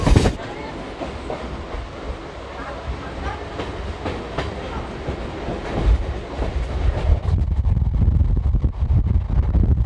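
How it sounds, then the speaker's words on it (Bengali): A local passenger train out of Howrah rolls steadily with a loud, constant rumble and rhythmic clickety-clack of the wheels, heard from inside the carriage. "এই ট্রেনটা কিন্তু প্রত্যেকটা স্টেশনেই দাঁড়াবে, যেহেতু এটা লোকাল ট্রেন"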